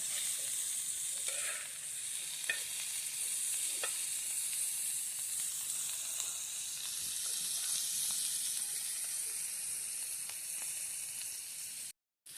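Bitter gourd sautéing in plenty of oil in a village kitchen, producing a constant hissing sizzle with occasional soft stirring taps, ending in a brief cut-off.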